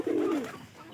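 A Giribaj pigeon gives a single low, throaty coo that slides downward, close and clear, then fades into quiet.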